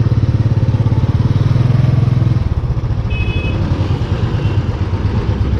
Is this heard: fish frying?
no